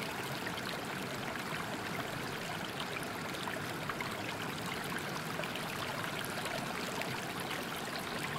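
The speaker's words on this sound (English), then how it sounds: "imagine sitting on the banks near the waterfall in this painting, the water crashing over the rocks" Waterfall water tumbling and crashing over rocks, a steady, dense rushing wash with fine splashing texture that holds an even level for the whole stretch, heard alone with no voices.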